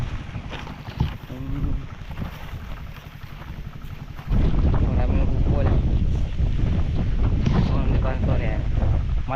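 Wind buffets the microphone in low rumbling gusts over a rice field, growing louder and steadier halfway through, with faint outdoor background and occasional distant voices.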